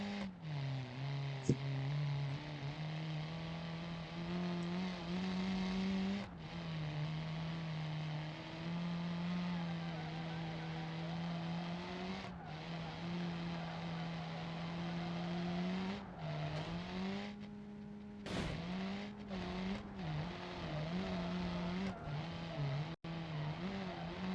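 An off-road car drives in BeamNG.drive, its engine holding a steady, loud drone that shifts pitch with throttle, with occasional skids and thumps over about twenty seconds and no talk.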